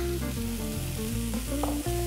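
Veal browns in a hot pan, a steady sizzle and crackle of frying meat running continuously at close range, with a tonal background layer and no speech.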